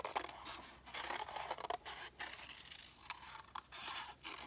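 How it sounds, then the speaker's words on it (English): Scissors snipping paper to make a journal pocket, a quiet, close series of irregular cuts and rustling scrapes, with no talking. "I'm going to take some scissors and I'm just going to do some cuts"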